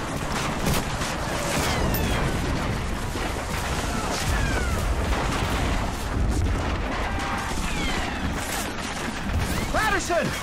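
Covering gunfire in the Medal of Honor Frontline war game on the original Xbox, dense and continuous with booms and whistling rounds, while soldiers shout over the din.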